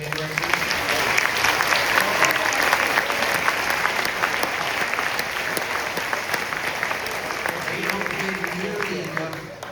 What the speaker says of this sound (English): Can we give a round of applause to all of our middle school band directors?